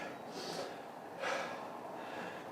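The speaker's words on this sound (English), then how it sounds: "Breathe." Heavy, ragged breaths after a kettlebell workout, two or three loud exhales and gasps close to the mic, with a sharper, stronger breath near the middle.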